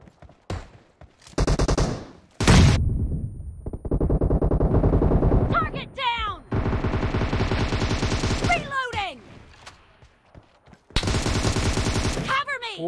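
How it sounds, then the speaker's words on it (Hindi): Video game gunfire from players sniping, with rapid bursts of shots in several dense stretches separated by short pauses, loud and close, with a few whooshing effects between. "ये लोग स्नाइपिंग कर रहे हैं, स्नाइपिंग स्नाइपिंग खेल रहे हैं"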